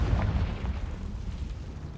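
Confringo blasting spell explosion inside a cave in Hogwarts Legacy, a deep rumbling boom that rolls on steadily for about two seconds with no voices over it.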